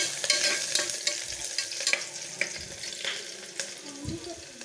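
Chicken frying in hot oil in a wok, a close continuous sizzle punctuated by irregular stirring clatters and spatula scrapes.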